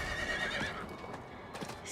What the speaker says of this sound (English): Badger, you can see the horse in person.